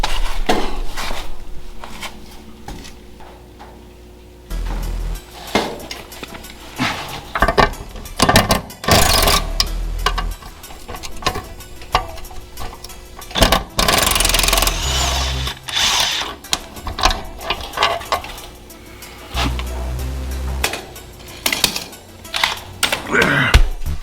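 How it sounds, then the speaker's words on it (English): Bolts are run onto a truck's front end during repair, with bursts of rapid power-tool rattling, metallic clanks and tool handling coming in uneven spurts, close and loud, with no talking. "Let's go ahead and bolt that."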